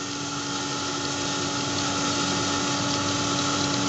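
A small electric household atta chakki flour mill runs at a steady pitch, a constant loud motor whine with a sharp tonal hum and a grinding rush beneath, close and unbroken with no talking.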